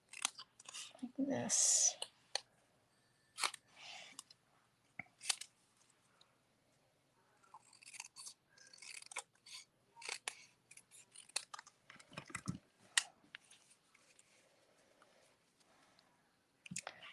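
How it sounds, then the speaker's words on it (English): Scissors cut through card-making paper in a series of sharp snips. The snips are scattered among quiet gaps, with a voice talking in between. "I'm not going to fussy cut around these. I'm just going to cut"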